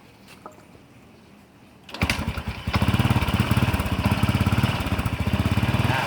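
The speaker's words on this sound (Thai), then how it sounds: "เครื่องยนต์จะติดหรือไม่นะครับ" A Honda Wave 125S motorcycle engine with a petrol leak sputters to life after a quiet pause, then settles into a steady, rapid putter that continues loudly and close.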